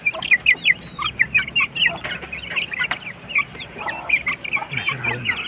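Hens and growing chicks in a crowded coop keep up a busy run of clucks and high peeps, steady and fairly close, with a few sharper bursts.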